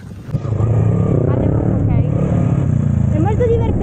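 A motorcycle engine idles with a steady low rumble, people talking over it close by.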